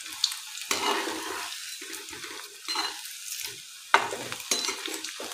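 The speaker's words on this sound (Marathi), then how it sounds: "याला आपल्याला चांगला गोल्डन रंग येईपर्यंत तळून घ्यायचा आहे।" Maggi noodle pakoda balls deep frying in hot oil until golden, a steady close sizzle with bubbling bursts and occasional stirring clinks, no talking.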